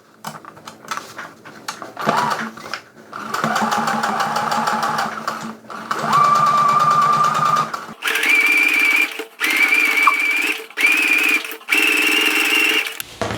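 Sewing machine running a long topstitch along a cork tote bag, close and loud, in several sustained bursts of rapid whirring stitching separated by short pauses, with no talking.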